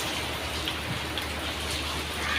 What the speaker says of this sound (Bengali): এত বৃষ্টি হইতেছে।